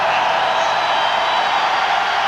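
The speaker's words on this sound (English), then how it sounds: "Now listen to the crowd get into it." Arena crowd at a 1988 UNLV versus Temple college basketball game roaring steadily during free throws, a dense, sustained wall of cheering with no pauses.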